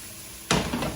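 Crushed red pepper hits a hot pan to sauté, bursting into a sudden loud sizzle halfway through after a quiet hiss, then crackling on at a slightly falling level.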